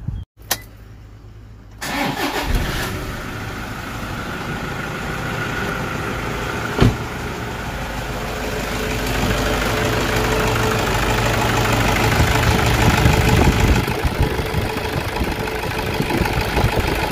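A car engine, just refitted with a new timing belt, cranks and catches after a brief click and quiet moment, then settles into a steady, close idle with a faint knocking rattle that slowly grows a little louder.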